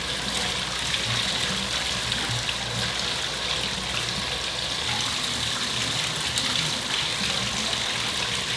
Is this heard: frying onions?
no